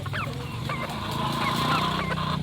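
A Hatch Grey cross gamefowl rooster on a farm gives a few short clucks and squawks, close by, with steady rural background noise under them.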